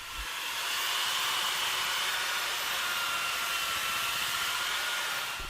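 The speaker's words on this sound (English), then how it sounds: "I am mixing it up one 50-pound bag at a time in a 5-gallon bucket using my RIDGID mud mixer" A RIDGID mud mixer churns thinset mortar from a 50-pound bag in a 5-gallon bucket, giving a steady, loud, hissing whir that runs unbroken throughout.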